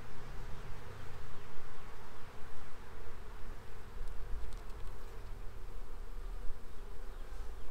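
A honeybee swarm hums around an opened hive, a dense and continuous buzzing from many bees close by, steady throughout with a few fainter high flickers of wings passing.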